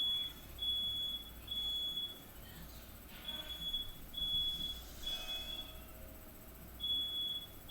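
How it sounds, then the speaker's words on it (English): Repeated high-pitched electronic alarm beeps, likely a smoke alarm, sound in short bursts over steady background noise, with a few gaps between them. "Is that an alarm?"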